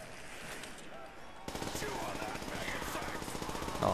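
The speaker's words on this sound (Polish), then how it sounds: "Po prostu wystrzałam je z tej mojej pepechy." PPSh submachine gun in Call of Duty: World at War firing in rapid sustained bursts, a fast rattling stream of shots that starts partway through and continues to the end.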